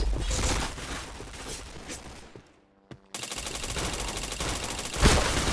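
Rapid automatic gunfire from a mobile shooter game blasts in dense bursts, drops to a near-silent pause with a lone shot, then resumes as sustained loud firing to the end.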